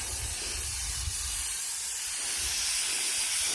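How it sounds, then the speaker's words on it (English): Pressurized water spraying onto the front crossmember of a 1968 Chevrolet C10 truck, a steady close hiss with a low rumble at the start and no voices. "let's get the spraying."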